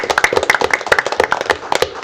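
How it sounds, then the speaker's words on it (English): Scattered hand claps from a council meeting audience in a city hall chamber, a brief burst of moderate applause with uneven, overlapping claps close by. "I think they deserve a good round of applause"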